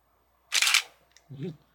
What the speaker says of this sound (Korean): 셔터 소리가 그래도 멋있어요